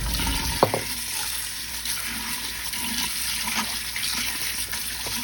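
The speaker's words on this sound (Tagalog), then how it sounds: "At pagkatapos nating hiwain ang bangus, ilagay sa strainer at hugasan." Sliced milkfish being rinsed in a strainer under running water, a steady broad wash of flowing tap water with faint clinks and splashes throughout.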